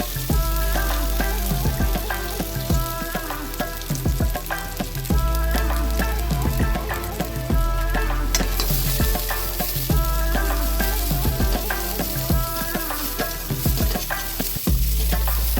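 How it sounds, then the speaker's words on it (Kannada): Onions frying in hot oil in a pan on a stove, a steady loud sizzle with crackling pops and occasional stirring scrapes, continuous and close for the whole stretch, no voices. "ಎಣ್ಣೆ ಬಿಸಿ ಆದ ನಂತರ ಮೊದಲಿಗೆ ನಾವು ಈರುಳ್ಳಿ ಹಾಕೊಂಡು ಫ್ರೈ ಮಾಡ್ಕೊಳ್ಳೋಣ"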